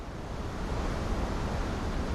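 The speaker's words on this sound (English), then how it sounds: "Look at those waterfalls," Rushing waterfalls in the Final Fantasy XVI video game, a steady broadband roar of falling water that holds loud and even throughout with no voices over it.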